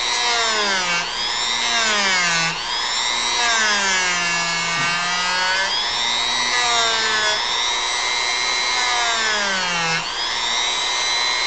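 A rotary power tool carves a model platform's front upper leg, whining steadily at high pitch with its tone repeatedly sliding up and down as the load and speed shift, close and continuous throughout with no talking.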